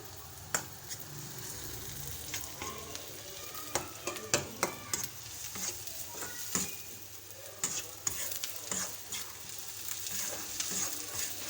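Green chilies with ginger and garlic paste fry and sizzle steadily in a pan, stirred with repeated light scraping and clicking of a utensil, close and fairly quiet with no talking.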